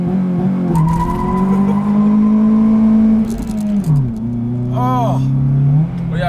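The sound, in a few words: modified Acura RSX launch control acceleration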